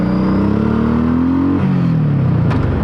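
A Honda Shadow Sabre 1100 motorcycle rumbles loud and close while riding through a leaning corner, its engine note rising steadily before easing off, with a constant low throb.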